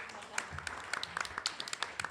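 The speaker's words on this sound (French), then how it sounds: "Si on peut l'applaudir encore," Audience applauding Geneviève after her reading of a text, a brief burst of many hands clapping with distinct sharp claps, fairly quiet and close.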